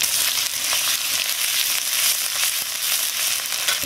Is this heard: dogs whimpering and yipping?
no